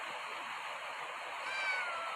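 A child imitates a cat with a thin, high, drawn-out meow in a quiet room with steady faint background noise.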